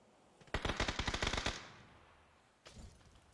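Gunfire in a video game battle royale match: a rapid automatic burst of about ten shots close by, then after a short pause a second, shorter burst.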